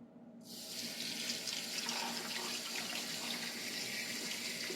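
Tap water runs steadily into a cooking pot for samgyetang, Filipino-style Korean chicken soup with ginger and onions, a continuous close hissing gush after a brief quiet start.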